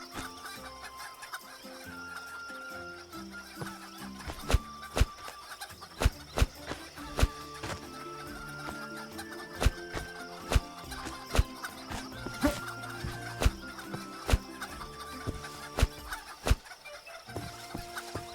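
Chickens cluck in the fantasy tavern-management video game Ale & Tale Tavern, repeated sharp clucks and pecking ticks recurring steadily over light game music.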